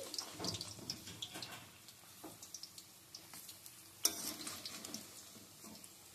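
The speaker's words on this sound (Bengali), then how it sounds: "এবার আমি এগুলোকে ভেজে তুলে নিচ্ছি।" Eggplant slices fry in a pan with a soft, faint sizzle, broken by light scattered clicks and taps from a utensil, with no speech.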